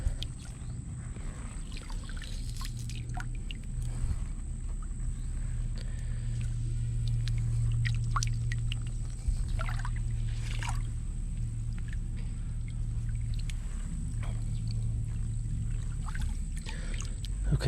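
Water and creek sediment slosh and swish around a pan in an urban concrete-lined creek, with repeated wet sweeps and trickles over a low, steady background rumble.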